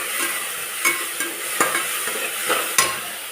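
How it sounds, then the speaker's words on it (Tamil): Ginger garlic paste and onions sautéing in a pan give a continuous hiss, with the spatula scraping and knocking against the pan at irregular intervals. "இஞ்சி பூண்டு பேஸ்ட்டு வதக்கியாச்சு."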